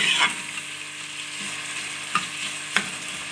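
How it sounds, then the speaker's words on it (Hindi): Onions frying in a pan as they turn golden brown for a beef paya curry, a steady close sizzle with a few sharp clinks of a spoon stirring against the pot, no voices. "प्याज़ों को हम गोल्डन ब्राउन करेंगे।"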